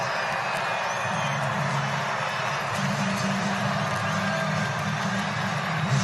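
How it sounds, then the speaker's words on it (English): A baseball crowd at Miller Park in Milwaukee during a Reds versus Brewers game, a broad steady roar of cheering and voices that holds for several seconds, heard from within the stands. "This crowd getting loud here at Miller Park in Milwaukee."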